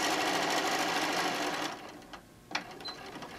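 A sewing machine stitches across the ends of a fabric wine bottle bag in a steady close whir for about a second and a half, then stops, leaving a quiet room with a few small handling clicks.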